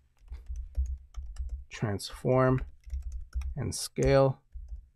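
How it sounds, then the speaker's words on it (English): Keyboard typing clicks at steady pace while working in Adobe Illustrator, running under a man's speech through most of the stretch. "I'm going to type out transform"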